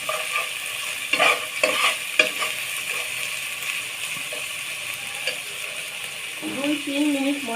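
Spice masala with salt being fried and stirred in a pan for a fish curry, a steady close sizzle with scraping stir strokes and clatter, and a voice speaking briefly near the end.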